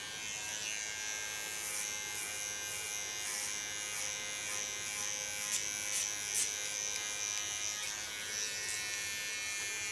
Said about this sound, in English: This is the latest clipper